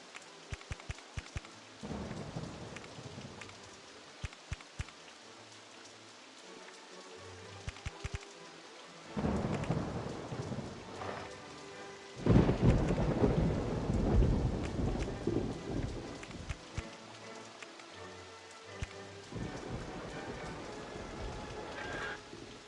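Rain and thunder in the Rollercoaster Tycoon 2 game, steady rainfall broken by several rolling thunder crashes, one especially loud and long, with scattered clicks between.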